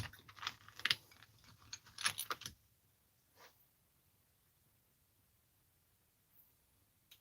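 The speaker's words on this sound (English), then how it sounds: "to turn this turnbuckle. Ooh, boy, that thing's tight." A small wrench clanks and ratchets against a tight turnbuckle in a few brief metallic bursts early on, then goes nearly quiet with only a faint knock or two.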